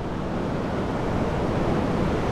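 Sea waves surge and crash against rocky shore near Gelendzhik's Blue Bay, a steady, loud broadband roar of churning surf with wind, no voices.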